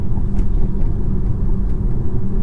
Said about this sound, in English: I'll be quiet for a second so you can hear the road noise